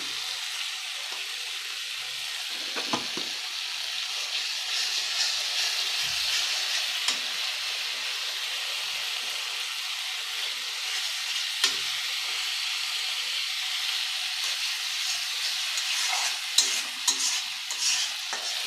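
Pabda fish curry fries and is stirred in a pan with salt added, giving a loud, continuous sizzle with occasional scraping stirs close by, and no talking.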